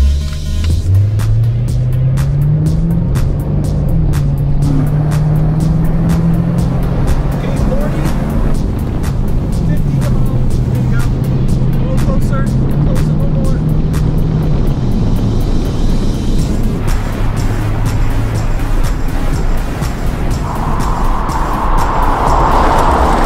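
A 1999 Chevy Corvette and a 1998 Chevy Camaro Z28 accelerate together, engine notes climbing through gear shifts, then ease off as they brake; loud, close in-car drone, with road and wind roar throughout.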